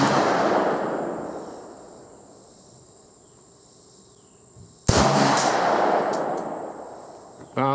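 A CZ-52 pistol fires outdoors, with one sharp, loud close report in the middle followed by a decaying tail, framed by louder blasts at the start and end over quieter background hiss.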